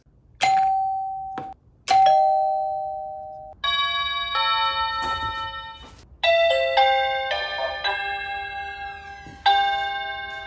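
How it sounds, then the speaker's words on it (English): Doorbell chimes ring in turn: a simple two-tone electronic ding-dong, then a series of richer, ringing mechanical bell tones with long decaying sustain, quite loud. "So I'm gonna play my electronic doorbell and then this one, and you decide which one sounds better."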